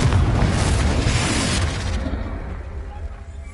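A Confringo fire spell detonates in Hogwarts Legacy, a loud booming blast with a rumbling roar that sustains for about two seconds before fading into a lower, lingering rumble.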